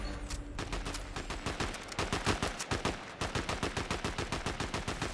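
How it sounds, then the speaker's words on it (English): Sustained automatic gunfire in Fortnite, a fast steady rhythm of sharp shots firing almost continuously with one brief pause midway, fairly close and without talk over it. "Somebody's shooting at me."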